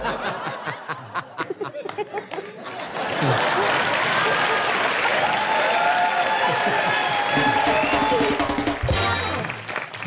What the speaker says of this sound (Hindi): देख भी रहे हैं मेरे लिए कितनी तालियां बज रही हैं।